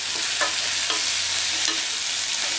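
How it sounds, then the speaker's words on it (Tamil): Pumpkin curry with salt being stirred in a pan, a spoon scraping in short repeated strokes over a steady low sizzle, close and alone with no talk. "உப்பு சேர்த்துட்டு மறுபடியும் கலந்துருங்க."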